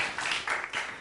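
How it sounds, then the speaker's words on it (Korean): A church congregation claps briefly on Teachers' Sunday, a short burst of moderately loud applause in a few quick swells. "좀 박수 한번 하지요"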